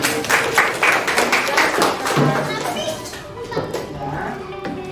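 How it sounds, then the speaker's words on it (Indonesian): Children in a primary school classroom clap briefly amid lively chatter and shouting, the claps loosely scattered under the noise of kids' voices. "Tepuk tangan"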